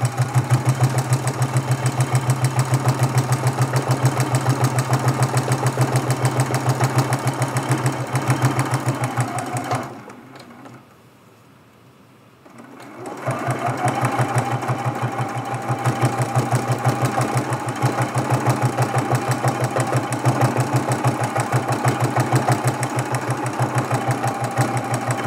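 A home sewing machine runs steadily, stitching an applique Christmas tree ornament, with a brief pause of about three seconds midway before the even mechanical hum resumes.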